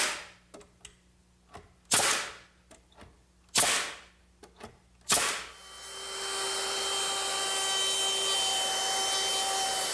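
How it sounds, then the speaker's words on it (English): Nails driven into the edges of wooden seat slats, several sharp hammer or nail-gun strikes spaced irregularly over a few seconds, then a steady whining power tool starts and runs on. "So I'm going to put a couple nails at each edge."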